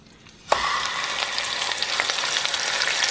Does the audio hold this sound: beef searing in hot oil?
yes